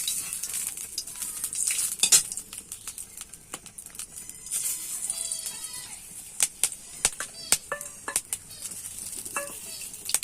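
Cumin seeds and onion fry in very hot oil, with a soft sizzle broken by uneven clinks and clatters of a utensil against the pan. Brief faint sounds that may be voices come and go.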